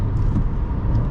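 A 2020 Nissan Versa S with a 1.6-litre engine and manual gearbox drones steadily from inside the cabin during a 0-to-60 run. The engine note is low and rumbling, with no talking.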